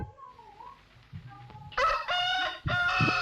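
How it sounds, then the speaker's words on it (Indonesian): A rooster crows loudly and close, its call rising and breaking in two strained bursts after a softer stretch of faint clucking. "suara ayam"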